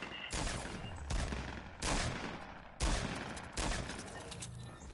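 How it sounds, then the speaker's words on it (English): Video game gunfire, a series of loud close bursts of rapid shots in about five clusters, each dense volley fading before the next, with no talk. "Watch him shoot you."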